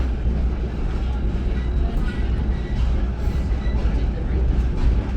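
A Reading & Northern Railroad passenger train rolls along with a steady low rumble and rattle heard from inside the car, while passengers talk nearby.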